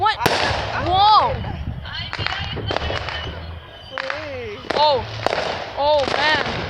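Fireworks go off outside in sharp cracks and bangs coming in quick clusters, mixed with whistling rises, as excited voices exclaim over the display.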